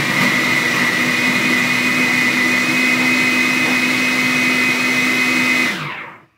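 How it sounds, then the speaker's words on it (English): A food processor pulsing pie crust dough, a loud steady whirring drone held for several seconds close by, then cutting off and winding down. "we can use a food processor and pulse it"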